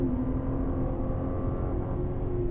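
A BMW on a race track pulls hard under power, its engine a steady, loud drone that holds a sustained note throughout, close and alone with no talk.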